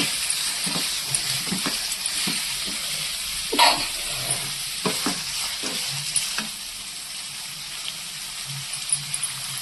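Chicken sizzles steadily in a hot pan for chicken saaru, with close, crackling frying throughout and several sharper stirring scrapes and knocks, without any voices.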